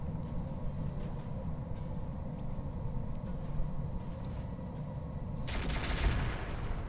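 Weapon barrage in Roguetech, a BattleTech video game mod, heard as a steady rumble of distant fire that swells near the end into a louder, sharper volley and crash.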